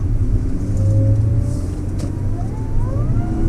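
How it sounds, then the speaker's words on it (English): Supercharger whine from an Audi A6 Quattro 3.0T while driving, a steady engine drone with rising tonal whine as the car accelerates, loud and continuous throughout. "That supercharger whine is juicy."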